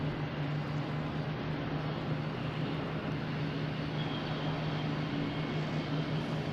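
A JetBlue airliner bound for Detroit takes off from Boston Logan, a steady, distant engine roar with a constant low hum that holds evenly throughout, no voices over it.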